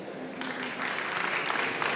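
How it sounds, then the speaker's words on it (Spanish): Applause from an audience after a talk on app security, building from moderate to a fuller, steady wash of clapping. "Un aplauso a Diosa, porfa."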